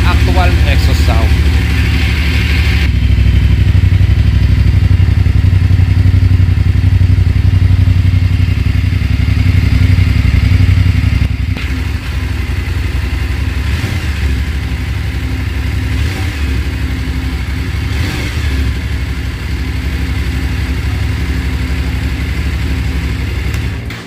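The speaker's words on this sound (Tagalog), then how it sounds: "Yan po yung ating actual exhaust sound." A VOGE 900DSX motorcycle idles with a steady low exhaust rumble, dropping slightly in level partway through, while someone talks over it throughout.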